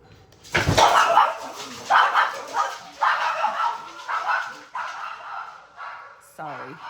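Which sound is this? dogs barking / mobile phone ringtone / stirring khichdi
dogs barking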